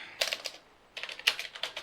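Bursts of clicky keystrokes come from typing on a computer keyboard during play of the Amstrad CPC game Cricket Crazy, two close flurries separated by a short pause, with no voices.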